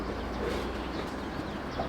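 Pigeons coo softly at a construction site, a few faint, low calls over quiet background hum.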